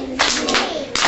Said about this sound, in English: can we give him 4 big claps?